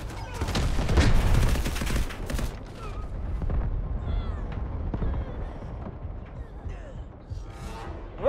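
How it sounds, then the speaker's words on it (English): An artillery barrage in Delta Force Hawk Ops thunders with heavy overlapping blasts and gunfire, loudest early on, then rumbles on more faintly with scattered shots. "Incoming artillery"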